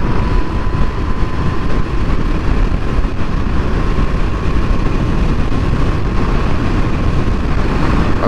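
A petrol car converted to electric drive runs at full throttle near 80, giving a steady, loud, continuous drone of motor, tyre and road noise with rushing wind, unbroken for the whole stretch and with no one talking.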